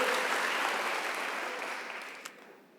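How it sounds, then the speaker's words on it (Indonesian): A church congregation at a worship celebration breaks into applause. The clapping is dense and fairly soft, with no talk over it, and it slowly tapers off. "Tepuk tangan buat Immanuel,"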